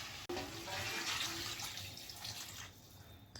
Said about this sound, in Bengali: গরম জলটা ঢেলে দেবো।